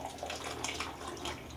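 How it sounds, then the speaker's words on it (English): Homemade butterbeer with melted butter poured back and forth between two containers, a continuous splashing, gurgling liquid stream, close and moderately loud, with no talking. "Just going to pour it back and forth, like the recipe says, from one container to the other"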